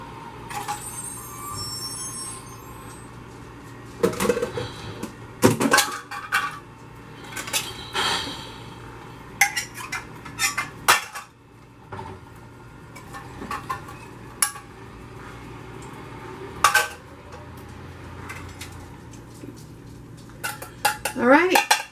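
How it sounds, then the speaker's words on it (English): Clams are tossed into a cooking pot for clam chowder, giving a string of sharp clinks and shell clatters against metal over a quiet background hum. "We're going to throw the clams in there."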